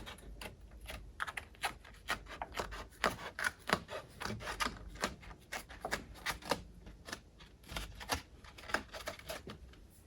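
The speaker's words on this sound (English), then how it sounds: "I like to fold the grip tape up just a little bit" Skateboard grip tape being folded and worked by hand, a close run of dry rasping, crinkling rubs in quick irregular bursts, fairly faint with no voices.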